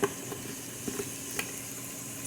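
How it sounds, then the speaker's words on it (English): Low, steady sizzling of beef short ribs in a hot Instant Pot, with faint crackles and a few soft pops, no voices. "y'all can hear that sizzle"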